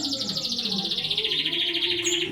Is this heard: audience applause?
no